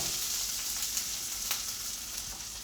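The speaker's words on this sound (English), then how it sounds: "So you can see they're really popping, and they're going to start to break down" Tomatoes sizzle steadily in a hot pan, a close hiss of frying with a few sharp pops scattered through it and no one talking.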